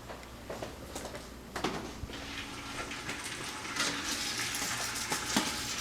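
Peppers caramelizing in butter in a pot on a stovetop give a steady, moderately loud sizzle and crackle, with occasional scraping stir clicks and pot knocks running throughout.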